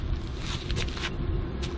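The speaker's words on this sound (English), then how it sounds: "Here comes the truck now." A truck passes on a road beside the Burnett River, giving a steady low rumble with brief hissing tire and air noise, fairly close and alone without talk.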